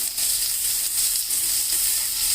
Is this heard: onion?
yes